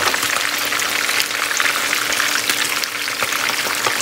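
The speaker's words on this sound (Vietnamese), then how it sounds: "Trong khi chờ cá chiên chín" Fish frying in a pan of hot oil, a loud close constant sizzle and crackle that holds steady with small spitting pops and no voices.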